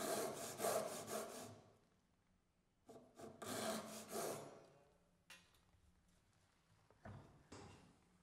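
Hand saw making the long rip cuts on the ends of wooden frame rails for a mitred tenon joint, nearby and soft, with a quick series of rasping strokes, pauses, then scattered shorter strokes and taps.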